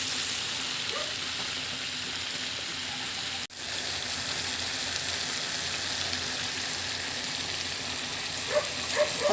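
Steady bubbling simmer of chicken adobo in a pan on the stove, a continuous soft hiss and burble with one brief cut midway and faint clinks near the end.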